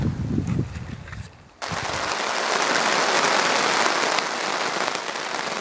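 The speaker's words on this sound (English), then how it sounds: "It's rained almost every day. I got the tarp up just in time. Man, it's pouring." After a short stretch of muffled noise, heavy rain starts pouring down on a tarp during a canoe trip, a loud, dense and steady hiss that fills the rest of the clip.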